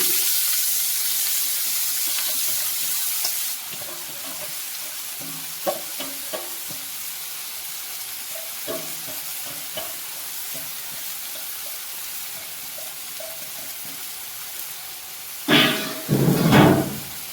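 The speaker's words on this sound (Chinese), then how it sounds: "放下去之后呢，继续把它翻炒。 翻炒呢，炒香。" Chinese chives tossed into a hot wok and stir-fried, opening with a loud broad hiss that settles into a quieter sizzle with scattered spatula clicks, then louder scraping bursts near the end.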